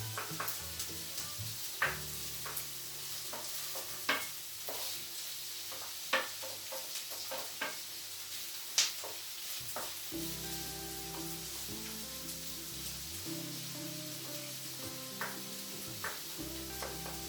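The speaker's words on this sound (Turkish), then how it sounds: "Soğanları pembeleşene kadar kavuruyorum" Onions with a clove of garlic sauté in a pan while potato oturtma is being made, giving a steady sizzle with occasional stirring scrapes and clicks, close and continuous throughout.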